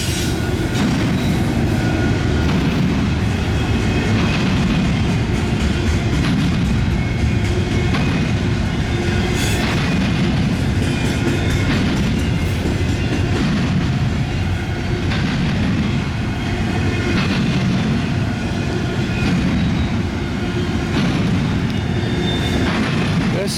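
Huge CSX intermodal freight train with three locomotives passing at Deshler, a loud, steady rumble of wheels with rhythmic clicking over rail joints and occasional squeals, close by throughout.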